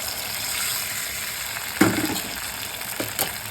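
Hot water poured into a pan of cooking ridge gourd curry makes a sudden splash and hiss, then a second brief gush over a low background simmer.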